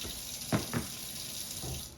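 Warm water runs from a kitchen faucet in a steady hiss, with two brief splashy bursts early on as the flow starts.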